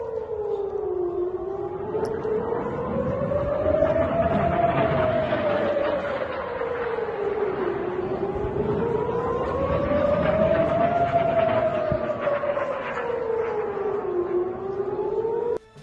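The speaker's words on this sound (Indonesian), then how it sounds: "Suara sirine berkumandang beriringan dengan bunyi ledakan roket." A loud air raid siren wails during a rocket attack on Israel, its pitch rising and falling in slow, repeating cycles, steady and unbroken throughout.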